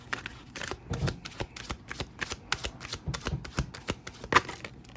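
Tarot cards shuffled in quick rhythmic riffles and slaps, a dense run of crisp close card snaps at a steady pace, then a card drawn; no talk during it.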